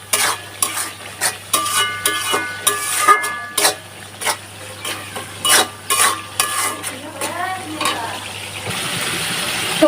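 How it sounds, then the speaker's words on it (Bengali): Spice masala with salt being stirred and sautéed in a pan for chicken curry, with repeated sharp spatula scrapes and knocks over a steady sizzle, close and fairly loud. "এবার আমি কষাতে থাকবো।"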